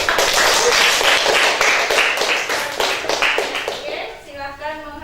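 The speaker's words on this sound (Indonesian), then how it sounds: "sudah kita kasih aplaus untuk" A group claps together in a classroom teaching session, brisk and fairly close, the clapping lasting about four seconds before giving way to a voice.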